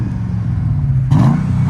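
A 2005 Mercedes CLK 55 AMG with a 5.5L V8 and muffler deleted, rumbling steadily at idle and then stepping up into a louder, rougher rev partway through, close by and without talk.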